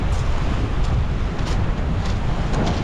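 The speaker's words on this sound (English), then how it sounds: "little windy out here." Loud, constant wind blasts across the microphone in a dense roar at the Lakes Entrance main beach, with a faint wash like surf underneath.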